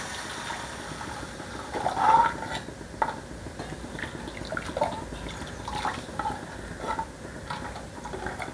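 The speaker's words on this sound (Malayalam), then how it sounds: "ആവശ്യത്തിന് വെള്ളം ചേർത്ത് കൊടുക്കാം." Boiling water splashes and trickles into a pot of tomato rasam, a brief louder pour followed by soft drips and sloshing, faint and close.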